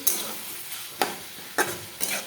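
Winter vegetables fry for chow mein in a pan, a soft continuous sizzle broken by four sharp scrapes and clacks of a spatula stirring at irregular intervals.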